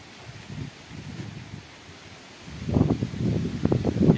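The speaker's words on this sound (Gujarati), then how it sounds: "એકદમ કેમ પવન નીકળો છે" Strong wind gusts across open village farmland, a low rumbling buffet that swells and grows louder in the second half, rustling over the microphone with no speech.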